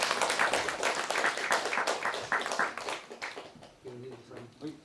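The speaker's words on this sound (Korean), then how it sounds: "여러분 수고하신 분들에게 선물을 이렇게 박수로 환영해 주시기 바랍니다." Church congregation at a Christmas service claps warmly in a dense burst that tapers off, followed by someone speaking softly as the applause fades.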